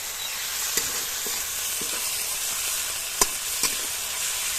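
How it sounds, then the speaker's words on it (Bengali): Ginger-garlic paste with chopped tomato frying in a pan for a Bengali fish curry, giving a steady close sizzle with a few sharp stirring clicks and no voices. "দিয়ে ভালো করে মশলাটা ভেজে নেব"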